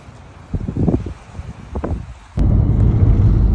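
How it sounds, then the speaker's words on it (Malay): Strong wind at Lake Tekapo in New Zealand buffets the microphone, with gusty broadband rushes in the first half that give way to a loud, steady roar for the final second. "Kuatnya angin."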